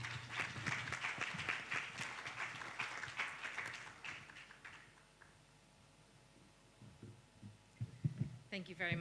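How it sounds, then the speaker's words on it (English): Audience applause welcoming a speaker to the stage at a nuclear energy conference, a fairly faint spread of clapping over the first few seconds that dies away into quiet room tone, with some noise returning at the end. "Welcome her with a round of applause as she makes her way up here"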